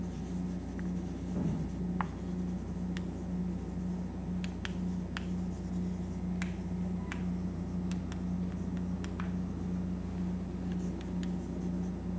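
Chalk or marker strokes on a classroom board during a graph theory lecture, a series of short, light scraping ticks spread over a steady background hum, with no talking.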